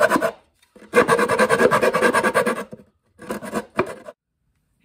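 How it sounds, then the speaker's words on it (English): Rough rasping strokes of an aggressive-grit sanding stick filing cigar box guitar parts by hand, a long steady burst of scraping followed by a few shorter strokes separated by silence. "It's this sanding stick. It's got aggressive grit sandpaper on this side."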